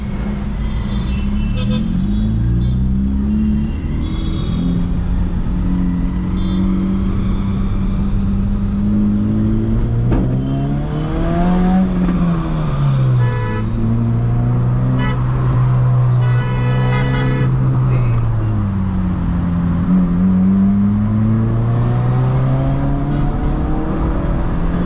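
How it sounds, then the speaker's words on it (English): A used 2007 Honda Civic's exhaust drones steadily while driving, its engine tone rising and falling with the revs for about twenty-five seconds, loud and close, with no talking. "So I guess you enjoyed the noise from the exhaust."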